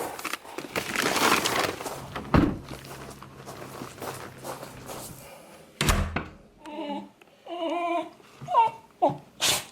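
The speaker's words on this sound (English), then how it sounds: "Hello, noisy dog." A dog makes noise in a home, heard as a series of short, close, loud vocal bursts toward the end, after thumps and shuffling sounds.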